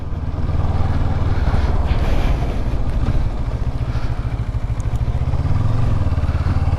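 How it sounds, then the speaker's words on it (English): A CFMOTO 650 Adventura two-cylinder motorcycle engine running steadily while riding, a constant low throbbing drone with wind rush, loud and close throughout. "So it's a 2-cylinder engine. Sounds decent."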